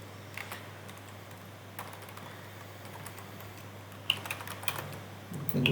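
Soft, quiet keystrokes on a computer keyboard as code is written, coming in short irregular bursts with brief pauses and no talking.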